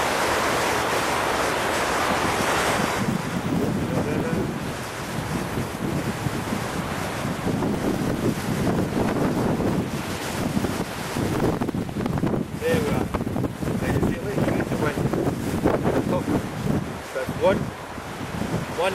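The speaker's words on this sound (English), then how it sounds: "I'm going to put my back to the wind because I'm going to use the wind, not try and fight it." Strong wind blows steadily at an outdoor campsite, a loud continuous roar that buffets the microphone in gusts, with bits of speech faintly under it.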